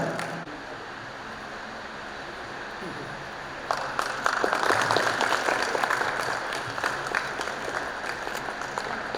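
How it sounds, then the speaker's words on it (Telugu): Applause welcoming a guest at a community gathering breaks out partway through after a quieter stretch of room noise, then continues as steady, fairly loud clapping from the crowd. "ఒకసారి రాజు గారికి గట్టిగా చప్పట్లు కొడుతూ స్వాగతం పలకాలి"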